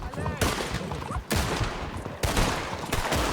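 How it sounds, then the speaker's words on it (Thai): Bursts of rapid gunfire crackle in dense volleys, broken by short pauses, with game-like sound effects layered over a busy, loud mix. "ยิงปืนใส่กัน เอฟเฟกควันปืน"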